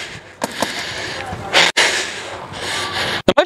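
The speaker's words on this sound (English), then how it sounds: "Breathing heavy" A paintball player breathes heavily after play, with loud gasping and snorting breaths close to the microphone, broken by a few sharp pauses and muffled handling bumps.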